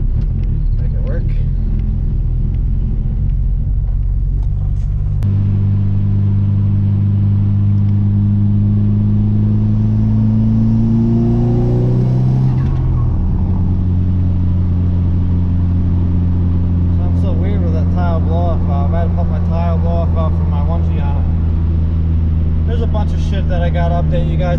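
Car with no power steering driving up a road, its engine droning steadily and shifting pitch as it accelerates through gears, with someone talking over the close, continuous rumble.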